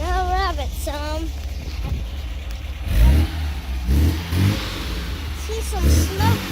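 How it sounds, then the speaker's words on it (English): A 1974.5 project car's engine revved in a few rising bursts, close and fairly loud, with a child's and an adult's voices talking over and between the revs. "We're gonna rev it some."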